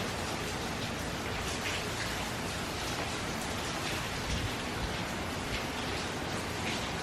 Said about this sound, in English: the rain's been pretty continuous